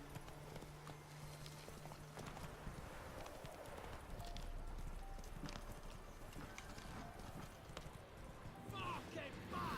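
Horse hooves clip-clop in the video game The Witcher 3, a rhythmic trotting beat over game ambience and music, with talking throughout.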